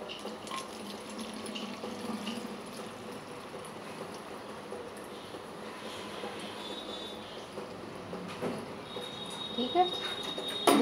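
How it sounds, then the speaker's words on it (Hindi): Water is poured into an empty bottle during a dish-soap demonstration. A steady, fairly quiet running-water hiss grows fuller and louder toward the end as the bottle fills. "ये हमने यहाँ तक पानी डाला है।"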